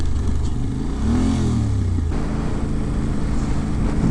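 Steady engine drone of a Yamaha Ténéré 700 adventure motorcycle on the move, riding through rain. Close, continuous low rumble with wind noise, and a brief rising pitch sweep partway through.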